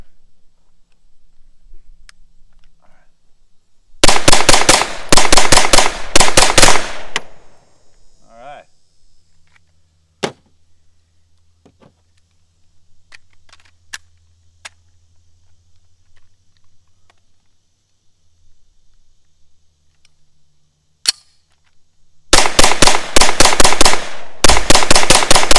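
Suppressed Nexus Evo Gen 1 gun fires two rapid bursts of sharp, loud shots several seconds apart, with quiet handling clicks and a brief voice in the gap between them.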